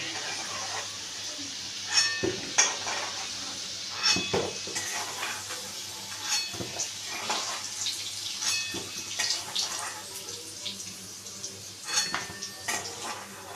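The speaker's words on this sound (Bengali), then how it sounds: "আমি আলুগুলোকে একটু লাল লাল করে ভেজে নিচ্ছি।" Potatoes frying in hot oil for a Bengali vegetarian potato and pointed gourd curry, with a soft sizzle under repeated clinks and scrapes of a spatula against the pan as they are stirred and lifted out.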